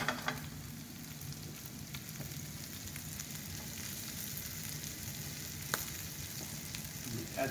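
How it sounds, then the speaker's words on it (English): Garlic sautéing in a pan for a Mediterranean bouillabaisse, a steady soft sizzle and crackle running evenly throughout with a few faint clicks, no talking. "just a little touch of garlic. And let's saute it for a couple of minutes."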